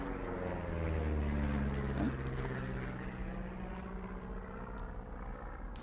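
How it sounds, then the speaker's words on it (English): An airplane drones overhead, a loud, steady low rumble that swells and then holds, with a brief questioning voice in the middle. "You see that plane? No, I was just busy packing up. I heard it though."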